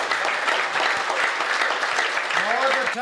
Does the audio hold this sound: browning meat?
no